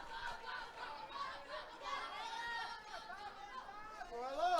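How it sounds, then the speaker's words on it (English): Crowd chatter in the stands at a college softball game, a soft continuous murmur of many voices nearby with individual voices briefly standing out. "Good crowd still sticking around here for Game 2."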